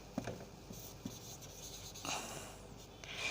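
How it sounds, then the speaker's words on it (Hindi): Pen scratching across paper while a name is written by hand, soft continuous close scribbling with small taps and strokes, fairly quiet, without talking. "मैं नाम लिख रही हूँ"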